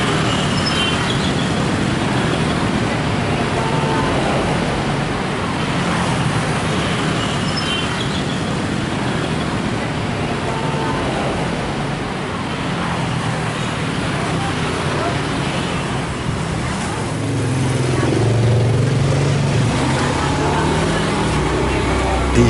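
Steady traffic rumble fills a narrow public alley used by motorbikes, a continuous dense roar with engines passing close throughout, a slightly heavier vehicle swelling near the end.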